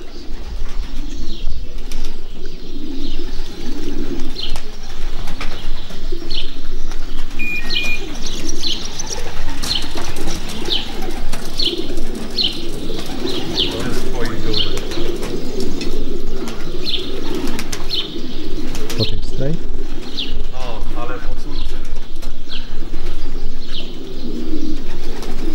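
Racing pigeons returning to a Polish loft after a 340 km race from Torgau, with repeated soft cooing and chirps close by, occasional wing flaps, and a constant outdoor background hum.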